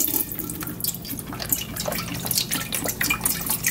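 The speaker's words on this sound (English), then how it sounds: "we're going to go ahead and use 48 ounces of chicken broth to start off with" Chicken broth, 48 ounces, poured into a pot for a chicken sausage and seafood gumbo, a continuous splashing, trickling pour with uneven liquid gurgles throughout, close and fairly loud.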